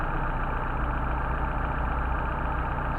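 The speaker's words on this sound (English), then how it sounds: "Alright, dropping RPM as we screw it in because we're decreasing air fuel flow" Mercedes 190SL engine idling steadily while its Solex 44PHH carburetor is adjusted: an even, low mechanical hum with a constant rumble, close and unbroken, no voices.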